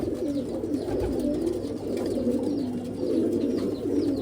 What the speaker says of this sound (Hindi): ये कबूतर है जी जो रुकने वाले हैं आज